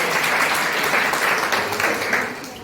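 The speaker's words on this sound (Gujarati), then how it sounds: "આપણે સૌ તેમનું તાળીઓથી સ્વાગત કરીએ" Audience applause greeting a family arriving at a birthday celebration, a steady, dense clapping throughout that eases slightly toward the end.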